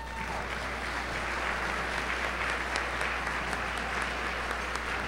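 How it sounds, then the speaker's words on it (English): Steady, full applause from a dinner-event audience honoring award recipients, many people clapping continuously at an even level from start to finish over a low constant hum. "Please join me in a round of applause for Ed and Pam."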